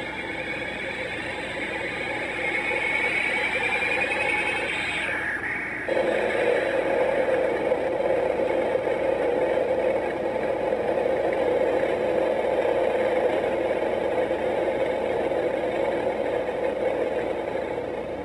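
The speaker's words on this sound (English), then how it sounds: "wave motion engine at the rear" A steady mechanical engine hum from a Bandai 1/350 scale Space Battleship Yamato model's wave motion engine runs throughout, with a faint higher whine early on that drops away, leaving a constant droning rumble alone with no voices.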